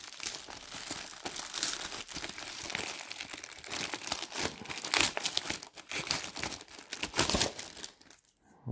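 Plastic wrapping on a mail-order package of video game goods crinkles and crackles continuously as it is pulled open, loud and close with irregular rustling bursts and a brief quiet moment near the end.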